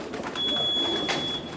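A racing pigeon coos softly in a loft, a short low murmuring call heard close and alone with a faint steady electronic tone in the background.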